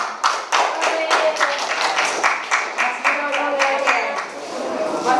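Classmates clap in a classroom after a group presentation on Bank Indonesia policy, a close burst of many hands beating in uneven, rapid rhythm for several seconds, with a few voices mixed in.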